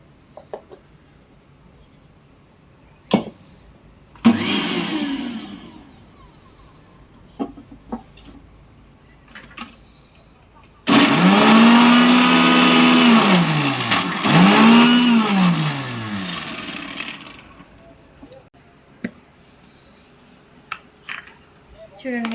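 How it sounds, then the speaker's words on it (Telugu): Mixie blender grinding a thick hair pack paste with water, two whirring bursts, a short one and then a longer loud run with rising and falling pitch, amid handling clicks and knocks. "ఇప్పుడు దీన్ని ఫస్ట్ ఇలానే మిక్సీ చేసుకుందాం."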